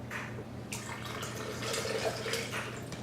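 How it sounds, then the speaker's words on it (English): Water being poured back into a container in a classroom measuring activity, a soft splashing and trickling that swells and dribbles over a steady low room hum, with no talk. "Do you want to dump your water back in and try some measuring?"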